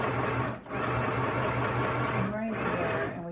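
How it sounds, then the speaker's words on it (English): A sewing machine stitches a waistband seam at a half-inch seam allowance, giving a loud, steady, close whir that runs almost continuously with two brief dips in speed. "we can go right into the machine and we can sew at a 1/2 inch seam allowance"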